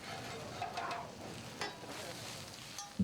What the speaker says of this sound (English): Everything's boiling, bubbling. Everyone's shaking the pans around